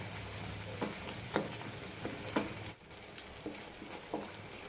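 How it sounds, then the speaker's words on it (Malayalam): Gravy sautéing in oil in a pan, a soft, steady sizzle under regular scraping strokes of a stirring spoon, close and fairly quiet. "ഇതേപോലെ തന്നെ രണ്ട് മിനിറ്റും കൂടി വഴറ്റിയെടുക്കാം"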